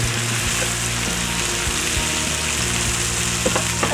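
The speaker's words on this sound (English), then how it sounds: "So that grease is popping in there" Grease sizzles and pops steadily in a hot pan, a dense crackling hiss with scattered sharp pops, close and fairly loud, with no talking.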